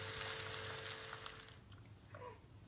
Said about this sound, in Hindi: ये देखिए फ़िश हमारी ऑलमोस्ट फ्राई हो गई है।